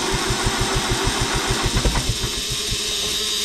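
A Minneapolis-Moline M5 tractor engine runs nearby with a rhythmic, chugging exhaust pulse that quickens and grows louder as the throttle is raised, with no talking.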